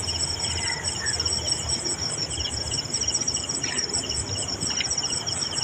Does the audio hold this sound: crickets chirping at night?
yes